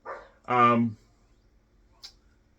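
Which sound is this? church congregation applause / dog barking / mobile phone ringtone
dog barking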